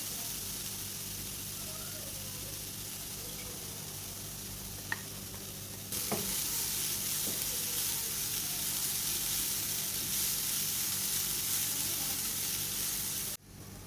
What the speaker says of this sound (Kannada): ಅದನ್ನೀಗ ನಾವು ಫ್ಯಾನಲ್ಲಿ ಹಾಕಿ ಫ್ರೈ ಮಾಡ್ಕೊಳ್ಳೋಣ.